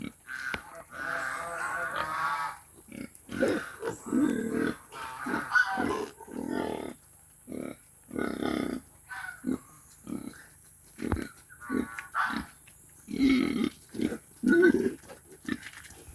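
Native piglets grunt and snuffle repeatedly in short, close bursts, with brief gaps between them and no talking.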